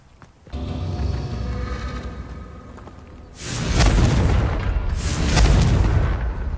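A Confringo spell explosion in Hogwarts Legacy, a deep rumbling boom followed by a second louder blast that rolls on with heavy low crackle, loud and close.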